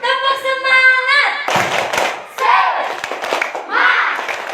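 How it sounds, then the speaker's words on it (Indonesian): Elementary school children at SD Inpres Lokoboko clap a rhythmic spirit clap in unison, after a voice leads with a sung call, producing bursts of claps and shouts from the group. "Kita ulang lagi ya. Tepuk semangat."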